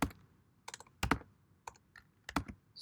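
Keys clatter on a computer keyboard in short bursts of a few quick taps with brief pauses between them, close and fairly quiet, with no voices.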